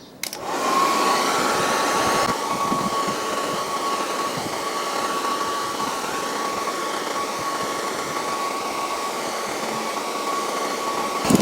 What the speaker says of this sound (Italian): Poi ripeto, diamo una botta di phon.